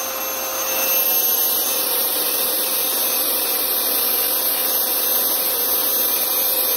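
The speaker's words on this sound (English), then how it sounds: "I'm gonna grind some more and then see if I can get it closer." A power tool grinds steadily on a soccer shoe, a continuous loud whirring abrasion that runs unbroken from start to finish with no talk.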